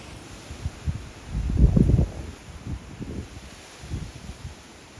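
Gusty wind on the Jug End summit along the Appalachian Trail buffets the microphone in low rumbling bursts, strongest in one heavy gust near the middle, with lighter puffs around it and no talk.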